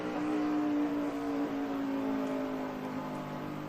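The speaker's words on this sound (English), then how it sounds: "Got a couple cars come with a run on the far outside up here" NASCAR stock cars racing in the 2011 Daytona 500, a steady loud engine roar with a sustained tonal drone that holds throughout, sounding like a pack running past continuously with no talk.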